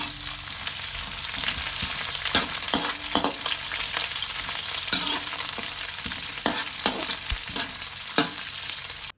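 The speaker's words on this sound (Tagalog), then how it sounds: "sisimulan na natin ang paggigisa. Yan, lalagyan na natin ng mantika. Then, igigisa na natin yung bawang." Garlic and onion sauté in hot cooking oil, a steady close sizzle and crackle with repeated stirring scrapes running throughout, no voices.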